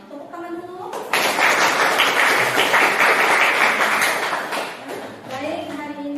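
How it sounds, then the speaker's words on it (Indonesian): A class of students applauds loudly and steadily for about four seconds, with voices heard briefly before and after the clapping. "Tepuk tangan dulu."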